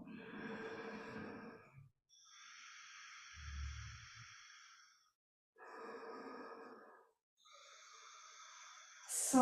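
Slow, deliberate breaths during meditation, close and quiet, alternating long airy inhales and exhales separated by short pauses.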